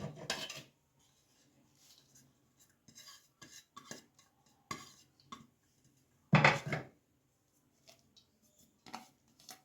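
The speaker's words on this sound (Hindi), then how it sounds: "ये मैंने आलू लिए और थोड़ी सी पालक लिए और प्याज, हरी मिर्च और ये बेसन। इन सारी चीज़ों को हम मिक्स करेंगे।" Potatoes, spinach, onion, green chili and besan stirred together in a bowl, giving scattered scraping and clinking strokes with one louder clatter, close and alone with no talking.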